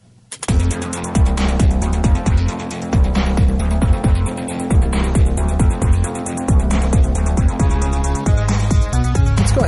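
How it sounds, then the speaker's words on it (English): Massive distorted synth playing in a full song mix, loud and dense from start to finish with a steady pounding low-end beat and no talking. "massive distorted synth sound."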